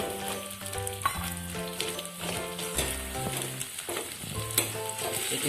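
Singara potato filling with peanuts is stirred in a pan over a soft sizzle, with repeated clinks and scrapes of the spoon and a few sharper knocks, all close and fairly quiet.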